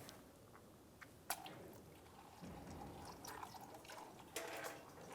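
Transmission fluid drains from a Hyundai Elantra's pan into a catch pan as a faint, steady trickle and pour, with a few small splashes and no talking.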